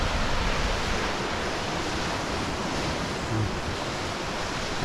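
Surf washing onto the beach at Fairlight Glen near Hastings, a loud, steady roar of breaking waves mixed with wind rumble on the microphone, with no talking.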